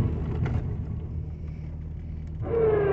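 A Jeep XJ plowing snow off a driveway rumbles with a low, steady engine drone, then revs up louder near the end as it pushes forward, no talking.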